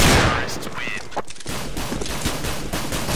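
Rapid video game gunfire crackles in dense bursts from start to finish, sharp and loud, with a voice talking faintly underneath.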